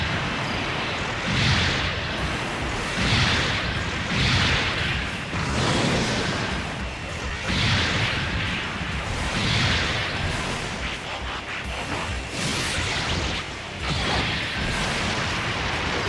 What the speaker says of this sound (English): That big cannon blast,